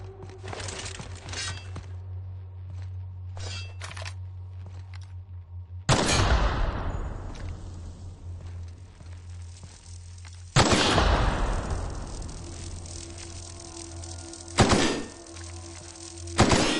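Gunfire in The Outer Worlds: three heavy, loud blasts with long echoing decays, spaced several seconds apart over a steady low game hum, with a sharper crack near the end.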